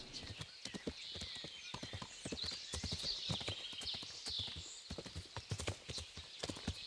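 Horse hooves clop steadily in Kingdom Come: Deliverance, a brisk repeated rhythm close by, with a faint neigh and a high ambient hiss underneath.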